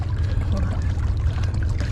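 Small waves wash over rocks on a beach, a continuous rushing, churning water noise with a low rumble, fairly loud and close, with no clear talk.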